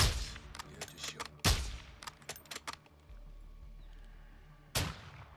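Gunfire in Call of Duty Modern Warfare II, a quick series of sharp close shots with a few heavier blasts and a low rumbling drone between them.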